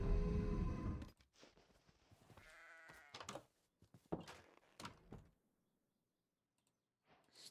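A sheep bleats in a cold, snowy survival video game, a few wavering cries and soft thunks after an initial noisy burst, then fading into near silence with faint sounds at the end.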